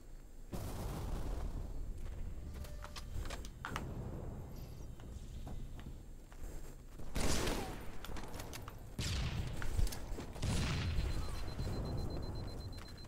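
Grenade explosions and shotgun blasts in Halo multiplayer, with several loud bursts and booms scattered over steady background gunfire, fairly close and without talk.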